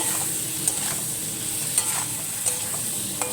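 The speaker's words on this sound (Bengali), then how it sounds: "একটু হলুদ দিয়ে আর একটু ভেজে নেবো" Cauliflower and katla fish curry frying with turmeric in a pan, a steady sizzle broken by repeated sharp scrapes and clinks of a spatula stirring against the metal, no voices.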